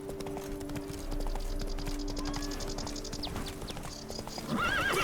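Geralt's horse Roach in The Witcher 3: Blood & Wine, hooves clip-clopping steadily on the ground, then a loud, close whinny near the end, with game music and ambience underneath.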